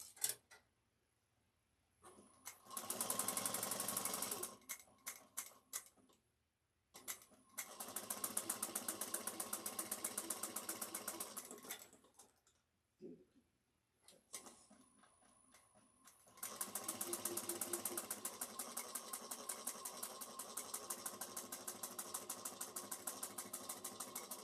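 Sewing machine stitching a shoulder bag 1/8 inch from the edge along both sides, heard as loud bursts of fast, steady mechanical whirring that start and stop several times with short silent pauses between runs.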